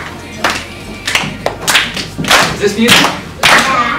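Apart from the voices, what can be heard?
hands clapping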